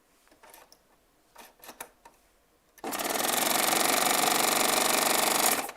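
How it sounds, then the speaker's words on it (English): A Baby Lock Triumph serger's air threader switches on with a sudden loud, steady rush of air that lasts about three seconds. A few faint clicks and handling noises come first. "you just hold the thread in front of the eye of the needle, and the air pulls it right on through that eye for you"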